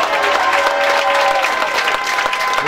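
A congregation at a spiritual retreat applauds to acclaim Jesus, giving a continuous wash of crowd clapping with voices mixed in, loud and close throughout.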